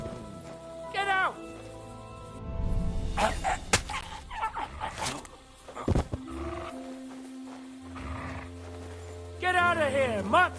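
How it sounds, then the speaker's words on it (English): Dog barks and growls mixed with shouting voices, loud and close, with bursts of noisy commotion throughout. "No one wants to hear your barking!"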